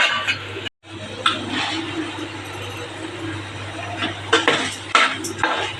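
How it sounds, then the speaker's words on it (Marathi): Paneer bhurji being stirred in a pan, a spoon scraping and clinking against the metal in irregular strokes over a steady hiss of cooking, with sharper knocks toward the end. "आता मिक्स करून घ्यायचे।"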